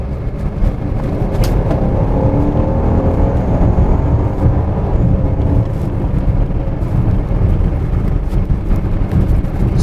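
A 2017 Volvo XC90 engine under turbo boost while accelerating, a steady loud rushing drone with road and wind roar that holds for the whole stretch, no voices.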